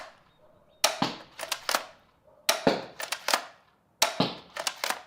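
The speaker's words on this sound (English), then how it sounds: "this is how it looks like when I'm trying to shoot it as fast as I can" A 60-pound crossbow is fired rapidly in three bursts. Each burst is a cluster of sharp, close snapping clacks, separated by short quiet gaps.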